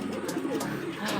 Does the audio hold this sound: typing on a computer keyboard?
no